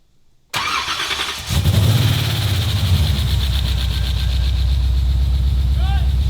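A Hellcat engine swapped into a Nissan 350Z cranks briefly, then fires into a loud, steady idle with a deep rumble that carries on to the end, close by.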